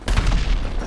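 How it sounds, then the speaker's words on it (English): Dense, loud volley of video game gunfire in an online multiplayer match, booming shots overlapping in a continuous burst. "Oh my gosh, I was shooting at everyone."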